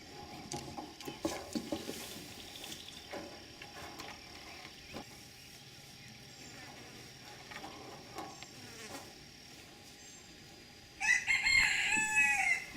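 A rooster crows loudly and close near the end, after a long stretch of buzzing insects and quiet outdoor ambience with scattered rustling.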